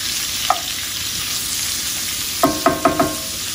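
Vegetables for pepper steak saute in a hot pan with a continuous loud sizzle, plus a single light clink early on and four quick ringing utensil taps against the pan near the end.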